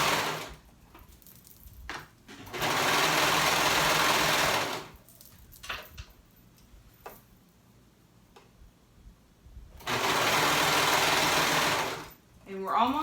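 Sewing machine stitching through the seam of a swimsuit, catching liner and outer fabric, in two loud sustained bursts of a few seconds each, separated by quieter handling noises and brief clicks.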